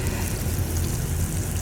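Onions sizzling in hot cooking oil in a home kitchen, a loud, continuous, dense crackling hiss with no pauses and no voices.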